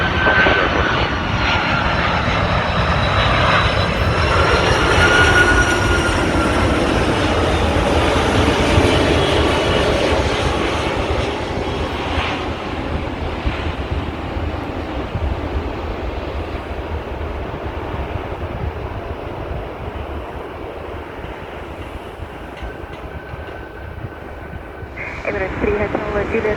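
A Qantas A380 airliner lands at Sydney Airport, a loud, sustained jet roar that slowly fades over nearly half a minute while radio voices talk in the background.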